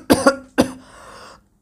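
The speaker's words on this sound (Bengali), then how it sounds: "একটু কেশে নিলেন।" An elderly gentleman coughs within Bengali audiobook narration of a Sherlock Holmes story: two quick close coughs, then a third after a short pause, followed by a faint rasp of breath.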